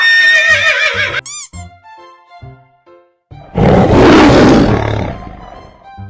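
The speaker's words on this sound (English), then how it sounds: "Lion." Loud, raspy roar from an animated lion in a children's cartoon, swelling and then fading over about two seconds. It comes after a horse-like whinny and some soft musical notes, with no talking.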